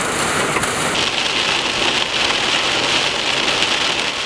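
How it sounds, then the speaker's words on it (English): Hail pounds a storm-chasing vehicle in an intense Oklahoma squall line: a dense, continuous, loud hiss and drumming across the surface that stays steady throughout, with no talking. "Getting hail right now."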